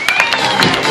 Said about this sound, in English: Big clap when he hits it